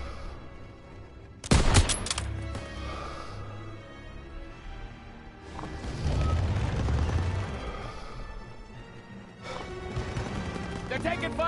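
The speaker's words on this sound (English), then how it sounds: "They're taking fire from behind." Gunfire in the Call of Duty WWII video game, a sharp loud burst early on followed by rumbling battle noise and scattered shots, with voices talking over the fighting.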